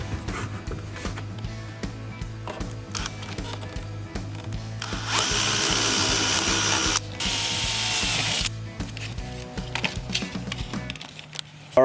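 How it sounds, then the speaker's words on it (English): Power drill boring holes during a Toyota Tacoma TPAM installation, a steady mechanical whir with ratcheting, rhythmic clicks throughout and a louder, harsher burst in the middle, close and alone without talk. "We'll go ahead and drill the remainder of our holes."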